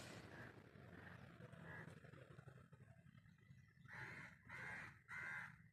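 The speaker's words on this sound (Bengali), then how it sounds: "কোথায়, মানে কাকটাও ডাকছে" A crow caws on a foggy day, heard from a rooftop: softer calls early on, then three loud, close, harsh caws in quick succession near the end, over a steady bed of distant traffic rumble.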